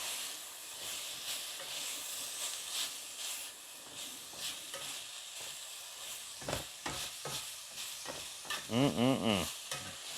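Garlic and ginger sizzle steadily in a hot iron skillet with a constant frying hiss, broken near the end by a few louder scraping stirs.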